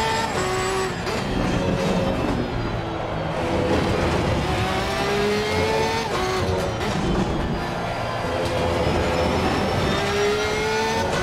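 Porsche 992 GT3-R race car in the sim racing game Assetto Corsa Competizione at Valencia, a loud continuous engine howl rising and falling through repeated upshifts and braking downshifts, with no talking.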